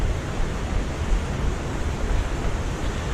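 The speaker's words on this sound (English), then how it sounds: "Listen to that water." Water rushes in a coastal stream running fast after overnight rain, a continuous dense roar with rumbling low end, close and steady, alone without voices.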